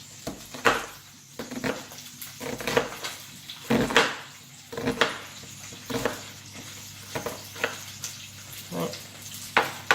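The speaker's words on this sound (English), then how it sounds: "I'm going to cut down through my onion, leaving it connected at the root ends" Sharp knife chopping down through an onion on a cutting board while preparing chicken tagine: a string of crisp, close knocks and crunchy slices at an irregular pace, with faint clinks in between and no speech.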